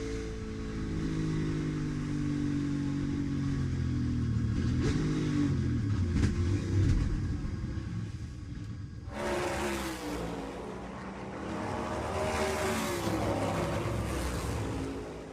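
Onboard a 2023 NASCAR Cup Series race car, the engine drones loudly in a steady, harmonic-rich roar, with its pitch sliding and the tone brightening sharply partway through as the car accelerates.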